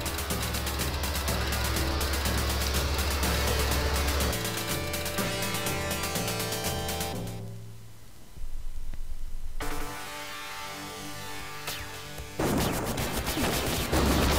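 Arcade shoot-'em-up gunfire from Gun Force, a 1991 Irem game: steady rapid shooting layered over driving game music, with dense bursts and blasts, a brief lull, then renewed firing.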